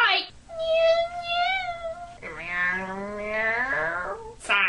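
A girl imitates the meow of the Pokémon Meowth with her voice, two drawn-out, sliding cat-like calls, close and clear, followed by a short vocal burst.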